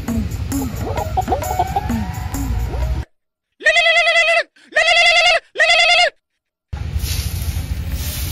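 Chickens cluck and squawk in a busy barnyard, then three loud, close bursts of hen cackling stand out one after another in near silence before the background noise returns.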